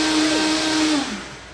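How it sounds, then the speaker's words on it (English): A blender runs on high, chopping vegetables with water in a raw vegan food prep, giving a steady loud whir with a pitch that shifts and drops as it spins down near the end. "put the whole thing on the blender with the water and everything, grab your lid, and blend it on high and count to 3"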